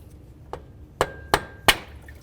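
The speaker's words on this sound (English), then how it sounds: "I'm going to give this a couple loving bonks just to try to break it free" A hammer strikes a pry bar to break loose the engine water pump on a 2007-12 Nissan Sentra: four sharp metallic bonks, the last three louder and ringing, spaced about a third of a second apart.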